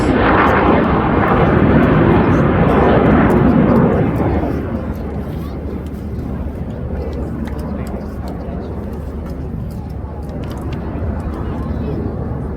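Red Arrows jets flying the rollbacks display manoeuvre at RIAT roar loudly overhead, then fade into a lower sustained rumble as the aircraft draw away, with a commentator talking over the engine noise.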